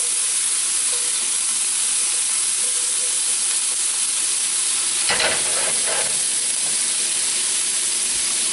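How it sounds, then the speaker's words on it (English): Steady loud sizzling and hiss of orange juice hitting a hot pan and deglazing it, with a sharper burst of crackling bubbling in the middle. "Listen to that, and it just kind of deglazes the pan a little."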